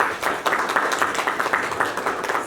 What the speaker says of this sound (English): let's celebrate our presence here this morning with a huge round of applause